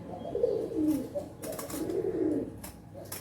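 Two low, throaty pigeon coos, each a rolling warble, sound close by with a short pause between them.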